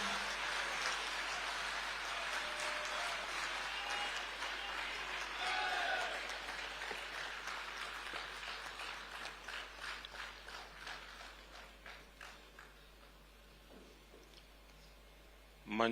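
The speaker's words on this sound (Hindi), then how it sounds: "माननीय प्रधानमंत्री श्री नरेंद्र मोदी जी को आइए उनके प्रेरणादायी संबोधन के लिए तालियों के साथ विनम्र निवेदन करते हैं." An audience at the Vibrant Gujarat Global Summit applauds to welcome Prime Minister Narendra Modi: sustained, dense clapping from a large hall that gradually thins into scattered claps toward the end.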